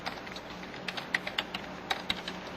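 Typing on a computer keyboard, a quick irregular patter of light key clicks with a few sharper taps, close and fairly quiet over a steady room hiss, with no voices.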